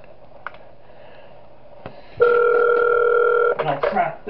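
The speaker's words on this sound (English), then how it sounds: "I'll listen to the phone call again just to make sure." Telephone in the horror game Those Nights At Wario's 3 gives a steady dial tone of about a second, framed by soft clicks and rustling, close and clear.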